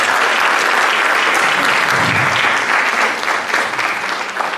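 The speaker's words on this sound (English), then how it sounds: "So just one round of applause for them driving out of the room." An audience applauds guest performers at a college concert of Great American Songbook music, loud dense clapping filling the room continuously from start to finish.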